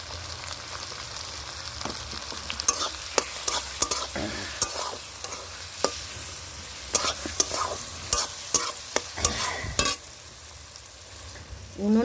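Chicken fries with tomato and turmeric in a pot over a clay wood-fired stove, with a constant low sizzle broken by repeated sharp scrapes and knocks of a spoon stirring close by.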